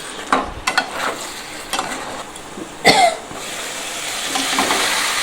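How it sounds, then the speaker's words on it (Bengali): Marinated chicken stir-fried for chicken kosha gives a low sizzle broken by scattered scraping and clattering strokes of a spatula in the pan, close by, with a brief cough-like burst midway. "আমি ভালো করে চাপা দিয়ে দিয়ে কষতে থাকবো"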